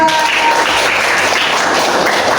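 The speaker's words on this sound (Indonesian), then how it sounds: "Ya, beri tepuk tangan untuk kita semua." Children in a classroom applaud together, a dense, steady wash of small hands clapping at close range that fills the whole moment without any talk over it.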